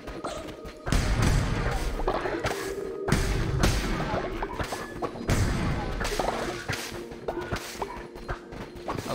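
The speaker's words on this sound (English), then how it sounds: "I like the explosions." Explosions in the video game Cult of the Lamb go off as heavy booming bursts about every two seconds, each with a sharp onset that trails into a decaying rumble over busy game effects.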